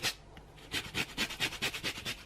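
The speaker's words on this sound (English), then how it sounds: "I'm going to grate a bit of the lovely lemon zest over" Lemon zest is grated over a salad in a quick run of about ten rhythmic scraping strokes, close and crisp, with no talking.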